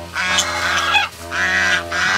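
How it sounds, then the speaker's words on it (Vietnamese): A pair of geese guarding their eggs in a garden honk loudly and close, several harsh, overlapping calls in quick succession with no one talking. "một cặp ngỗng à, đang à, đang ấp trứng"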